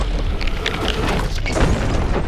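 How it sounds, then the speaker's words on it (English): A dark dynamite satchel detonates in a video game, a dense, rumbling blast that holds broadband and steady for about two seconds. "they let off a blast that's identical to a big dynamite bundle"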